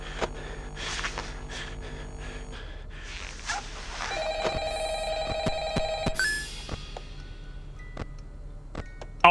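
A telephone rings in a Five Nights at Freddy's style horror video game, a few electronic ring bursts sounding mid-clip among scattered game noises and clicks, with no one talking.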